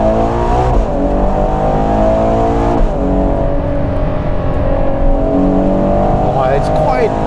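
A Ferrari Purosangue fitted with a Novitec exhaust accelerates hard from inside the cabin, a loud continuous engine roar rising in pitch through gears with shift breaks, while a person talks over it.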